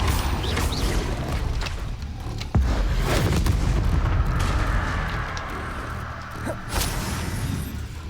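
The Depulso spell goes off in Hogwarts Legacy during combat, a sharp boom and whoosh among repeated blasts, thuds and swishes from other spells, loud and close, with no voices.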